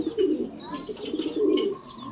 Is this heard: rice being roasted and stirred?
no